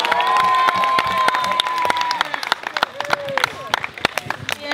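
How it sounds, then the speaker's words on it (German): Audience applause with cheering at an evening talent show, a crowd clapping in dense bursts that thin into scattered claps, with voices and shouts mixed in. "Und Applaus für Anna und Maike!"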